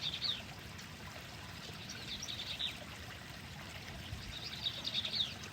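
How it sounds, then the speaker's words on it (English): Water trickles and rolls steadily along a stream in Chino Hills State Park, a soft, continuous wash, with a few brief bird chirps rising above it near the start, middle and end. "Pretty fun with the water rolling next to it."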